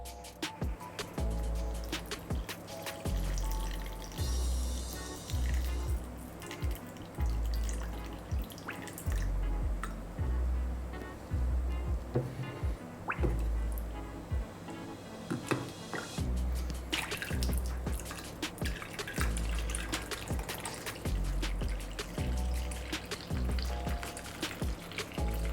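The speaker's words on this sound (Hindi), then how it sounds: "चलिए पानी डालना स्टार्ट करते हैं।" Water is poured over a Realme 11 Pro smartphone during a water durability test, producing continuous splashing and trickling with rhythmic low thumps underneath, steady for the whole stretch without talk.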